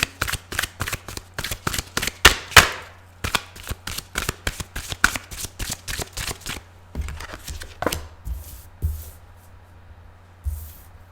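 Tarot cards are riffled and shuffled by hand in quick, crisp bursts of snapping flutter, close and loud, followed by a few slower card slaps and soft handling with no speech.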